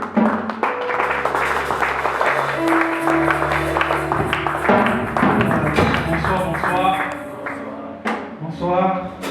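An audience breaks into applause and cheering for a platform president at a French-language stage event, clapping spread under a loud announcer's voice and music, swelling and continuing throughout.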